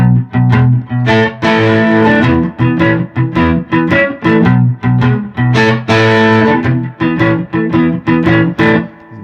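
Distorted electric guitar with a capo strums D-shaped chords in a choppy rock and roll chugging rhythm, loud and close, with short gaps between bursts.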